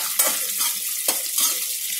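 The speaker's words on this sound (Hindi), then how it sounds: "ये भी इसी में डाल देंगे और इसको भी हम साफ के साथ भून लेंगे हल्का सा कलर आने तक।" Dried coconut sliced lengthwise roasts with poha in a pan over a low flame, a close crackling hiss punctuated by a couple of quick stirring scrapes, no voices.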